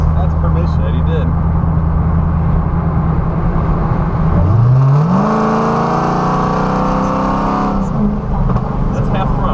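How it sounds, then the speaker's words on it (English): A Dodge Challenger Hellcat engine idles with a deep, loud rumble, then revs up sharply at half throttle, holds a roaring high pitch for several seconds and drops back, with a voice speaking over it. "That's half throttle. Very loud. This is a monster."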